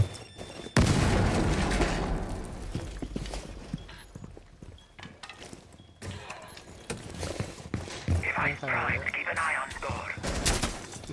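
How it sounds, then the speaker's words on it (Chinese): Two trams blow up in a video game firefight, giving loud, booming blasts and bursts of gunfire-like crackle across the clip, with a second cluster of explosive impacts near the end and game voices faintly underneath. "兩架電車大爆炸"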